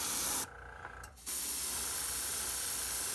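An airbrush hisses loudly and close while painting a deep-diver fishing lure, cuts out for under a second, then resumes in a steady continuous spray.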